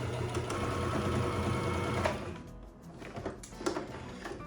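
Home sewing machine stitching a waistband, a fast steady mechanical whir for about two seconds, then stopping into quieter clicks and handling noises as the bobbin runs out.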